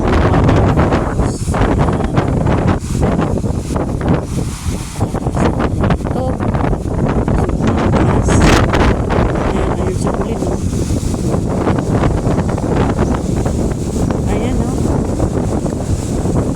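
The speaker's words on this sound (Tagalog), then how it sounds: "Lakas lang guys ng hangin kaya malamig" Strong wind buffets the microphone in a loud, continuous roar with gusty rumbling throughout on a bridge leading to a beach, a person talking faintly beneath it.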